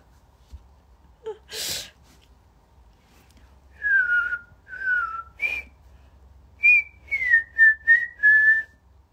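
A woman whistles a song over an Instagram live stream, in short tonal phrases with pauses between them, preceded by a breathy, sneeze-like burst. Near and clear, with no talking.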